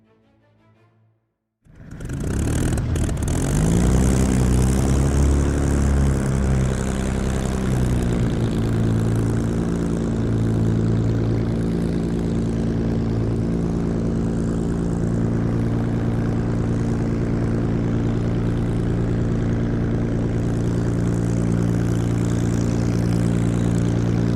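A Supermarine Spitfire fighter's Rolls-Royce piston engine catches after a short silence and settles into a loud, steady, throbbing propeller drone that holds for the rest of the clip.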